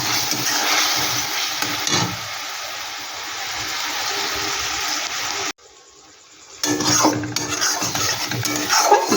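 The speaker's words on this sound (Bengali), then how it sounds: "এই বাটিটা ধুয়ে একটু সামান্য একটু জল দিয়ে দিচ্ছি।" A bowl is rinsed with a little water in a home kitchen while evening snacks are made: steady splashy hiss with light dish clinks, close by, broken by a short quiet gap partway through.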